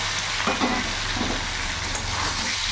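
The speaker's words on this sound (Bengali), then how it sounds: "কচুটা ভাজা ভাজা করে নেব" Steady hot-oil sizzling and crackling as boiled taro pieces fry on full flame, with occasional stirring scrapes in a pan close by.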